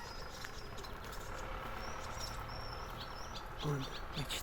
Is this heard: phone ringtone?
no